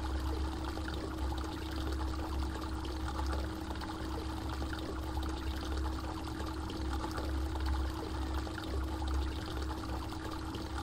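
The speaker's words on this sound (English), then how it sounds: "Might as well drain the fuel in this." Fuel drains from a vehicle in the survival game SCUM as a steady, quiet pouring and trickling of liquid, continuous and unbroken for several seconds with a low hum underneath.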